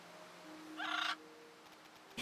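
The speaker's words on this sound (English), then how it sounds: "The Gaga bird would make a sound like this if we hang it upside down." A Gaga bird in the game Little Witch in the Woods gives a single short, harsh squawk, brief and bright against a quiet game background with faint tones.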